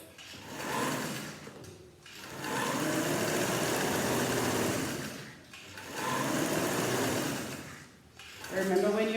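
A sewing machine stitching a vest runs in long steady bursts with brief pauses between them, its whirring motor close and continuous during each run.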